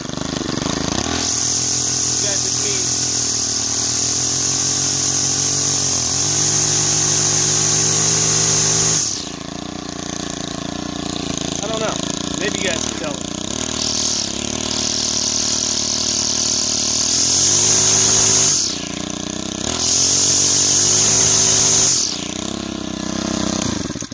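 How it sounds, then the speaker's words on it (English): Stihl FS90R string trimmer two-stroke engine running steadily, its buzzing whine rising and falling as the throttle is opened and eased off several times, close and loud, with faint voice underneath. "Can you throttle the Steel FS90R?"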